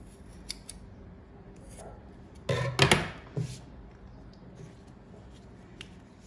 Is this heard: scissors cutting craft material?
yes